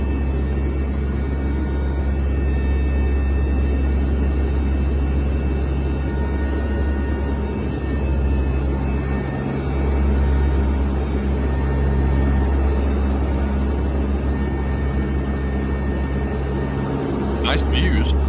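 Steady, loud low-frequency drone fills a C-130 cabin in flight during airdrops, a constant engine and airframe roar with little change, and a brief higher whine near the end.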